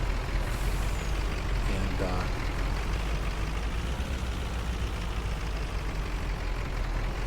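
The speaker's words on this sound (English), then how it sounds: "I'm going to park this truck up front here" A truck in the Farming Simulator 19 video game drives with a steady engine drone and a brief hiss of air brakes, under a continuous noisy rumble while someone talks briefly.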